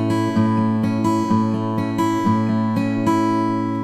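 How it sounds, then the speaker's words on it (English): An acoustic guitar plays a fingerpicked arpeggio in A, with evenly spaced plucked notes ringing close and clear over sustained lower strings, alone with no talk. "So for when I play this arpeggio in A,"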